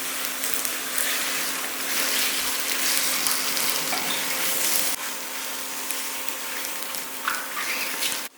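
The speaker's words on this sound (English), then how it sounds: "once the frying pan is hot, go ahead and add the seasoned rice noodles" Seasoned rice noodles frying in a hot pan for Thai rad na goong: a dense, continuous sizzle close up, steady throughout with a slight drop midway.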